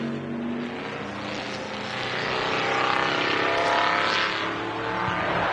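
Ford engine in a historic race car rumbles around the Montjuic track at a racing festival, a loud continuous roar that rises and falls slightly as the car passes, with no voices.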